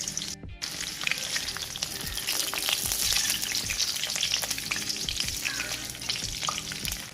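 Whole spices and bay leaves frying in a hot kadhai, with a few green chillies, in village-style chicken biryani cooking: a steady, close crackling sizzle with scattered pops and spatula stirs, no talking.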